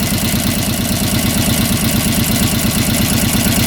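A cheap secondhand ATV with an oil-leaking valve cover and a pinched exhaust gasket idles steadily up close, its loud, even low-pitched chugging pulsing without a break and with no voices over it.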